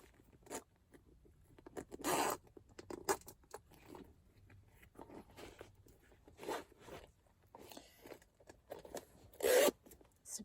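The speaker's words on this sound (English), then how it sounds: "Zipper works nicely." Zipper on a Louis Vuitton Multi Pochette replica bag pulled open and closed in several short rasping runs with soft handling rustles between, close and fairly quiet.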